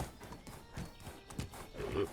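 In the medieval village-building video game Medieval Dynasty, a horse's hooves clop softly on the ground, giving a few muffled, rhythmic thuds at moderate distance.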